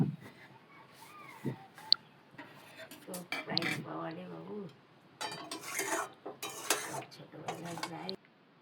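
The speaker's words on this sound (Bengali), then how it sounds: "দেখুন আমি একটা বোলে সবজিটা সার্ভ করছি।" Cooked bean and potato curry being served into a bowl with a metal spoon, close clinks and scrapes of cutlery against dishes, heard under a person talking.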